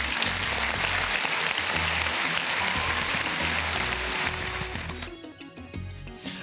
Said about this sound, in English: Round of applause for Mr. Anthony.